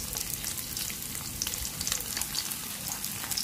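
Steady crackling sizzle of vegetarian ribs frying in hot oil, dense and continuous with small pops throughout, close up.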